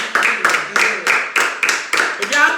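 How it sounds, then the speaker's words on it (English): People clap their hands in a quick run of about eight sharp, close claps at a steady rhythm. "Applaud yourself."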